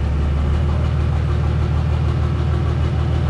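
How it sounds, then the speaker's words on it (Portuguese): An MWM six-cylinder turbo diesel engine runs at a steady idle, with a close, constant low rumble and no talking. "Que motor que usa isso aí? MWM, 6 cilindros, turbo. Diesel!"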